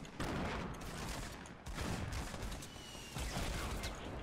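Grenade explosions and heavy gunfire from a shooter video game, a dense, continuous barrage of blasts and shots with bursts at about two-second intervals, loud throughout.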